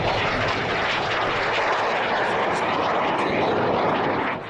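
Impala military jet trainer passing overhead, a loud steady roar of engine noise filling the whole stretch before tapering off at the end.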